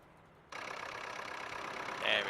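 A tractor engine in Farming Simulator 2013 starts up abruptly and runs at a steady, mid-pitched drone, rising slightly near the end, with a brief higher tone overlaid.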